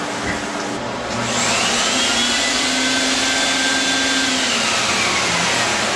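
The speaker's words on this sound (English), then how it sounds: "Now I'm going to vacuum the rug" A vacuum cleaner runs steadily on a handmade wool oriental rug, a loud continuous motor whine with a rising pitch that holds through the whole stretch, with no talking.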